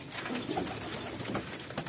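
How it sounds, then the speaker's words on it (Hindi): An old pigeon held in the hand gives soft, low cooing close by in a short stretch. "ये मेरे हाथ में मेरा एक पुराना कबूतर आ गया है जिसको आप जानते पहचानते हैं।"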